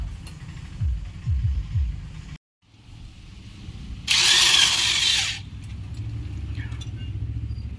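A power tool runs loud and steady for about a second while the body of a Mahindra tractor is opened up for repair of a body crack, set between other clanking workshop noises and a sustained machine hum.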